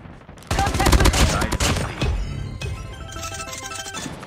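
Rapid automatic gunfire from a Call of Duty match on the Deep Town island map, loud and sustained bursts with a ringing, musical tonal layer over the shots.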